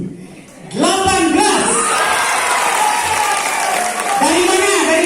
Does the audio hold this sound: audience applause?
yes